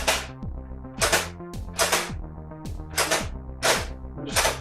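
Nerf Stratobow crossbow-style blaster firing foam darts in rapid succession, six sharp snapping shots at a steady pace, each followed by a whirring mechanical priming noise, close and fairly loud.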